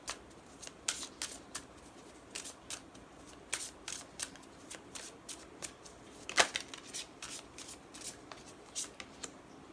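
Tarot cards are shuffled by hand before a card is drawn, giving bursts of crisp, close riffling clicks at irregular intervals, one snap louder than the rest.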